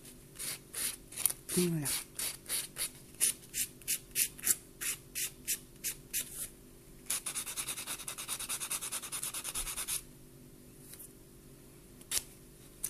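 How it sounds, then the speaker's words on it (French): A very light, fine buffer rubs a fingernail up close in a quick series of short, soft rasping strokes, followed by a steadier continuous scrub and a final brief stroke, with a short spoken word near the end. "le faire avec une petite ponce comme ça, très légère, très fine"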